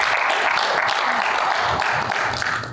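Audience applause at a business empowerment seminar, a dense, steady round of clapping from a crowd lasting the whole moment and tapering slightly at the end.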